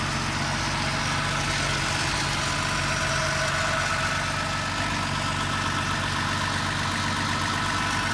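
A 1980 Euro-spec Mercedes-Benz 280SL engine idles smoothly and steadily at close range, a constant even hum with a low rumble and no talking.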